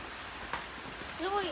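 Steady rain patters on a roof, filling the background, with a brief voice rising near the end.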